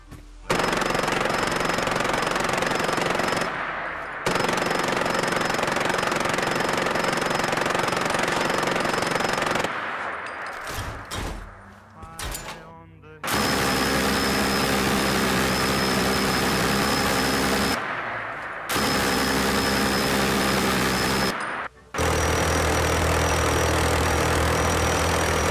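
Modded minigun in Fallout 4 with custom sounds, firing in long sustained bursts separated by short pauses and a brief clattering spin-down in the middle, loud and close with no talk.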